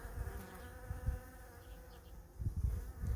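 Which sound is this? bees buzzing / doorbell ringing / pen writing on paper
bees buzzing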